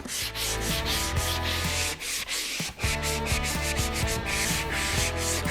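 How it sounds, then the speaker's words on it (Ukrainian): An orbital sander hums loudly and continuously against wood, a steady buzzing rasp with brief dips as it shifts across the surface. "А потім візьмемо орбітальну шліфмашину і прошліфуємо наш пласт."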